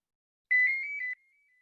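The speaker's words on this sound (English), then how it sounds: "Sorry, that was my phone." A mobile phone ringtone goes off during a surgery lecture: a brief, clear melodic electronic chime of about half a second, alone in an otherwise silent room.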